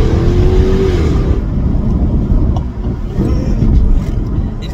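Supercharged engine of a Jaguar XKR X150 facelift revving hard under acceleration, a loud, continuous low roar that swells and holds steady throughout, close to the microphone.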